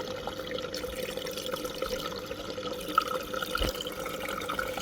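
Water flows steadily through the pipe of a PFC 20000 Auto pond filter packed with K1 media, a continuous close trickling wash with a faint drip or splash near the end and no talk.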